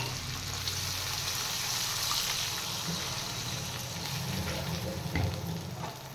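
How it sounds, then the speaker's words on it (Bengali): Steady sizzle of kajli fish curry cooking in a pan, with a soft watery trickle and pour blending in, constant and close throughout with no talk. "এবার দিয়ে দেব জল।"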